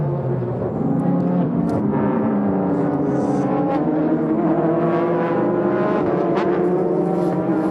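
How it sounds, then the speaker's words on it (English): Ferrari F360 race car engine during a 2006 Super GT race at Okayama, a steady high-pitched drone with shifting tones holding loud and continuous throughout. "That's the Ferrari F360."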